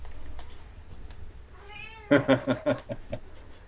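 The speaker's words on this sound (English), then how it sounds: "Night terrors on the kitty." A cat in the grip of night terrors cries out, first with a drawn, wavering wail and then a run of five loud, closely spaced anguished meows.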